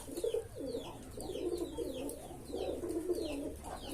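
Pigeons of a large breeding strain cooing close by, repeated soft throaty coos in an uneven rhythm with faint chirps over them.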